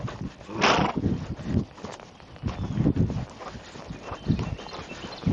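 Ridden horse walking, with soft, muffled hoof thuds in an uneven rhythm over a rustling, noisy background.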